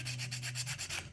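A resin model part is rubbed with fine sandpaper in short, rhythmic strokes, about eight quick rasping passes close by, soft and dry, with no voices.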